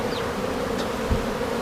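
Honeybees buzz at an open beehive in a dense, steady drone close by, with an individual bee whining past now and then and a brief soft thump.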